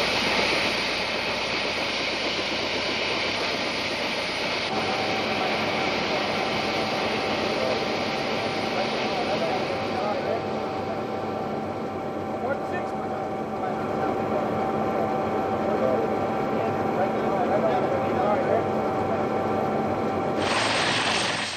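A rescue helicopter's rotor and turbine hold a steady, loud drone throughout, a constant mechanical roar that barely changes in level, while a voice talks over it.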